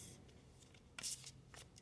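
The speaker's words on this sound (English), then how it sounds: "These big ones are a little hard to shuffle." Oversized cards being shuffled with soft riffling rustles and a brighter, louder burst about midway, faint and close in a quiet room.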